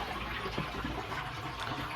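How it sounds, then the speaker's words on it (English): Water rushes steadily into a hot water cylinder, a constant hiss and gurgle at moderate volume with no talking. "So we're getting that cylinder filled up now."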